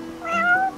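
A cat meows once in Final Fantasy XV, a short, clear, rising-and-falling cry close up with no talking over it.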